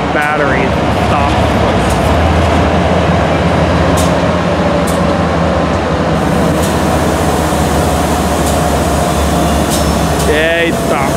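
A Metrolink train with a cab car rolls through Fullerton station, producing a loud continuous rumble with brief high squeals near the start and end, and people talking nearby.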